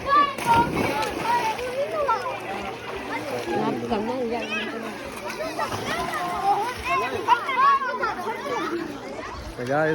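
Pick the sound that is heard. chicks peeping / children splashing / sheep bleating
children splashing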